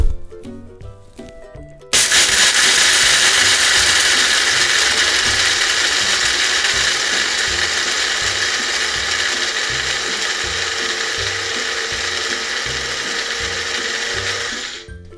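An electric mill grinds roasted soybeans into kinako powder, starting abruptly after a short pause and running as a loud, steady whirring roar with a rattling edge for about thirteen seconds before cutting off.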